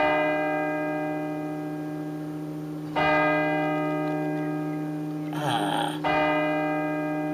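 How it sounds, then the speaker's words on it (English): A great bell in a tower rings with long, ringing harmonic tones, struck again twice so each stroke swells over the lingering hum of the last. "I hear the great bell, enormous wang, in the tower"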